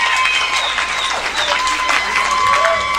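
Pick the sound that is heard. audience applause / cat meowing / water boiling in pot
audience applause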